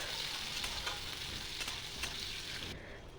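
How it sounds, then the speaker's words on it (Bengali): Chopped onions frying with dried red chili and cumin seeds in hot oil in a wok, a steady close sizzle with crackling pops and occasional stirring scrapes, no talking. "শুকনো লঙ্কা আর জিরে ফোড়ন দিয়ে দিচ্ছি পেঁয়াজ কুচিটাকে মাঝারিভাবে ভেজে নেব"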